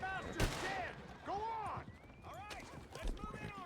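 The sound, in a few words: gunfire in a video game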